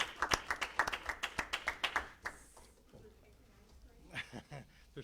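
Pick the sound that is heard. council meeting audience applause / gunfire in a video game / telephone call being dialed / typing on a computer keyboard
council meeting audience applause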